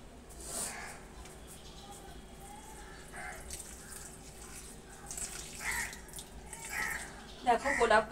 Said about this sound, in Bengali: জল নিয়ে চলে এসেছি, এবার তুলসী গাছে জল দিই।